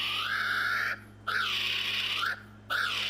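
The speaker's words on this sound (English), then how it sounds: "It's called a kiwi." Kiwi bird calls come as three long, loud, rising-and-falling whistled cries, each about a second, separated by short pauses, close and clear over a steady low hum.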